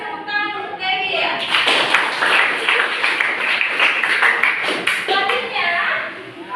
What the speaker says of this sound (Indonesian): Kasih tepuk tangan untuk Dewi ya.